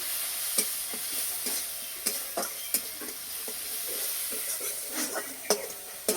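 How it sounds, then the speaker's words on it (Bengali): Ground spices (cumin, chilli, turmeric) with a little sugar being stirred and sautéed in a pan for a papad dish, giving a steady sizzling hiss broken by irregular scraping clicks of the spoon against the pan. "মশলা ভালো করে কষিয়ে নেব।"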